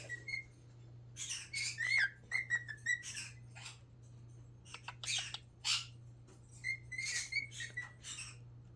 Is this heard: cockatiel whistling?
yes